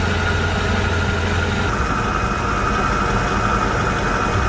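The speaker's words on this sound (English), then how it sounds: "That is just the smoothest running engine." A previously unused 70-year-old Rolls-Royce crate engine idles smoothly and steadily, a continuous close, even hum with no talk over it.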